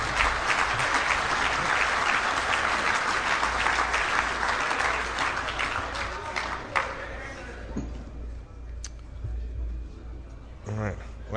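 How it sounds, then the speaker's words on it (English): Dense, loud applause from an awards ceremony audience fills the room for about seven seconds, then thins to scattered claps and faint room noise, with a brief voice near the end. "So I think they all deserve a round of applause for managing to keep the secret from Randy."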